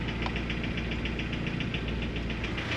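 A car engine idles at low RPM around 1,000 with a rhythmic slapping knock from 1320 Performance 65A inserts, steady and close, ticking evenly throughout.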